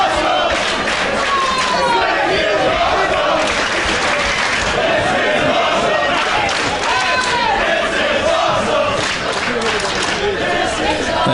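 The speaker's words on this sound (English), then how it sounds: "This capacity crowd here in New York City coming alive as the action has got electric out on the floor as Ricochet gets rolled back in by Ronin." A capacity wrestling crowd at a live Dragon Gate USA show in New York City roars continuously with applause, shouts and chants, loud and dense throughout. Occasional thuds from the ring and voices are mixed into the din.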